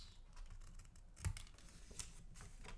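A craft blade cuts off paper bottoms in a few soft, uneven strokes with small scraping ticks, close and quiet, ending with a sharper tap.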